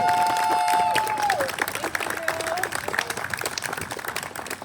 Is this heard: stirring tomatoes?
no